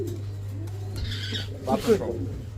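A pair of Damascene pigeons with their chicks gives a brief, soft cooing burst near the end, over a steady low electrical hum and muffled voices.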